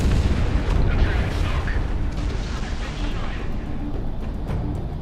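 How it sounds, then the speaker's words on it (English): Explosions and heavy booming fire in the flight combat game Project Wingman, a dense continuous rumble of blasts and crackling bursts throughout, loud and unbroken. "They did do a good job on the explosions"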